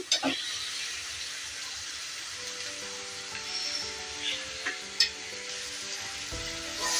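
Beera kaaya (ridge gourd) and green chillies softening in a covered pan for roti pachadi, giving a steady low sizzle with faint stirring clicks and scrapes throughout, close and quiet, no voices.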